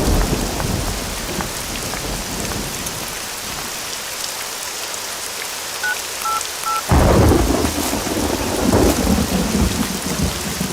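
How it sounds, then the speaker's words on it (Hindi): Heavy rain pours steadily with rumbling thunder, a dense continuous hiss that swells louder midway as the downpour intensifies, with a brief electronic beeping tone briefly audible over it. "बारिश हो रही है"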